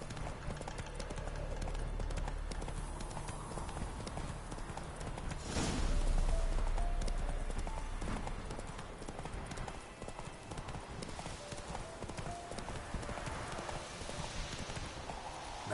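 Roach, Geralt's horse in The Witcher game, trots with steady clip-clop hoofbeats across the whole stretch, while a voice speaks now and then and a brief louder swell rises midway.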